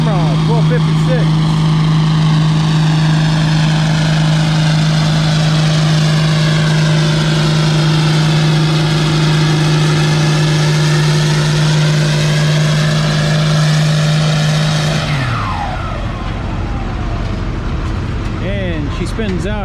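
A vintage Farmall tractor roars under load at a tractor pull in Lynden, Washington, a loud, steady, close engine drone that holds for most of the run before dropping and shifting near the end.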